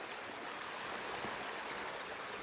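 Heavy rainwater pours down like a waterfall during a downpour, a loud, steady rushing roar of falling and splashing water that holds unbroken throughout, with no voices.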